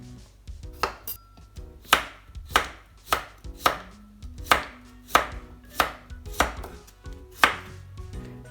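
A knife chops cucumber into strips on a cutting board with about a dozen crisp, evenly spaced thuds up close, and nobody speaks.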